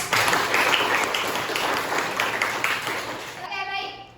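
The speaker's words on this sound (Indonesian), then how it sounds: "Beri tepuk tangannya dong." Classroom children clap together for a classmate during a lesson, a busy patter of small hands close by that fades out after a few seconds, with children's voices mixed in.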